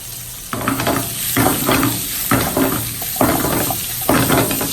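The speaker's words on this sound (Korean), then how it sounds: "이제 당근이 전체적으로 기름에 코팅이 될 수 있도록 충분히 볶아줍니다" Carrots stir-fried in oil over high heat in a pan with steak garnish prep, a steady sizzle with rhythmic bursts roughly every second as the pan is tossed or stirred, close and fairly loud with no talking.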